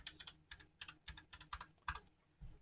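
Quick, light keystrokes on a computer keyboard enter an IP address, a rapid irregular run of soft clicks, close and quiet, with no talking.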